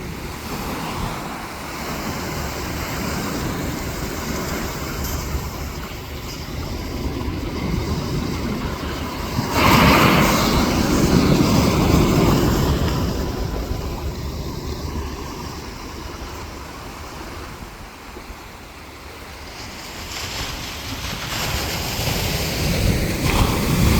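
Rough sea waves break on the shore in a constant broad roar, with heavier surges swelling and washing in around the middle and again near the end.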